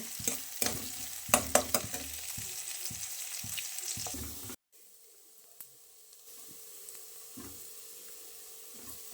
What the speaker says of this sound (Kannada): ಇದೊಂದು ಎರಡರಿಂದ ಮೂರು ನಿಮಿಷ ಫ್ರೈ ಮಾಡ್ಕೋಬೇಕು